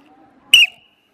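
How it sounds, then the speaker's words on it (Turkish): A single short, shrill whistle blast starts a schoolyard tag-and-run game, close and loud after a faint murmur. "Düdükle başlıyoruz."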